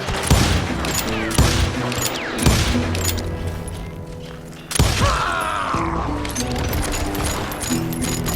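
Repeated gunshots and loud booming blasts from a Wild West shootout in the video game Call of Juarez: Gunslinger, heavy volleys cracking at irregular intervals with a brief lull before a fresh burst and ricocheting whine.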